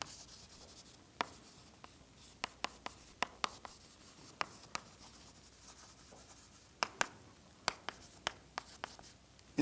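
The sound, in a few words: writing on a board during a lecture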